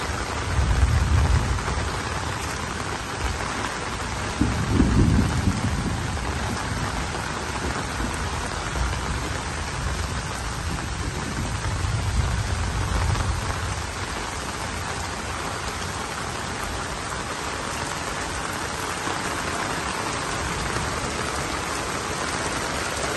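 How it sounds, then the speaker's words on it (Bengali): Steady rain drums on a garden house during an Eid rainstorm, a continuous dense patter, while low rumbles of thunder roll in near the start, around five seconds, and again more faintly later. "বৃষ্টিতে ভিজছে।"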